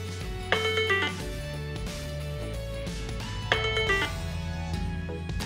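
A phone alert tone set off by pressing the button on a TrackR Bravo tracker, a repeating bright melodic chime in short bursts over a musical background, fairly loud and close, with no talking.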